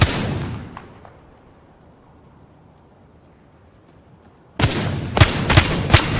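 Video game gunfire: a loud shot fades out, near-silence follows, then a close burst of several heavy rapid shots erupts at the end.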